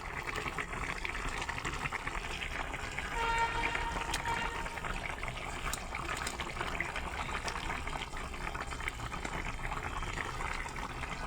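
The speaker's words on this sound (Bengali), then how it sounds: "যে আমার বলক উঠছে, তরকারির বলক উঠছে।" A covered pot of rohu fish curry with potato, eggplant and lentil dumplings bubbles at a rolling boil, a steady close simmering and gurgling wash of liquid sound with no talking.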